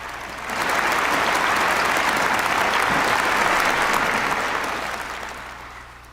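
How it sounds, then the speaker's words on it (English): A large audience at a church report event on the Korea peninsula peace summit gives a big, sustained round of applause, swelling quickly, holding steady and dense, then tapering toward the end. "Let us once again give a big round of applause."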